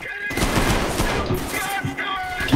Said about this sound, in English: Like I can show up here, start shooting at this guy.